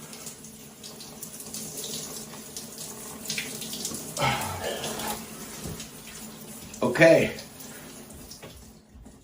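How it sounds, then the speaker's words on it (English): Cold water runs from a tap and splashes as it is cupped onto a face, a steady close stream with louder splashing bursts, under a brief spoken word. "holding your breath and running the cold water on your face"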